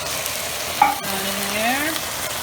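Tomato paste sizzles in a hot pan as wine is poured in, a sharp hiss rising at about a second and a half of steady frying, with a spoon scraping through it close up.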